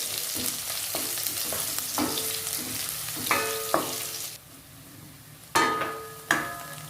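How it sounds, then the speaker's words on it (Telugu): Onions fry and sizzle in a pan, stirred at intervals while a Rayalaseema uggani breakfast is cooked. A close hiss runs underneath, broken by several sharp scraping stirs, louder toward the end, with no talking. "వేసి ఆనియన్ వేసుకొని బాగా ఫ్రై చేసుకోవాలి."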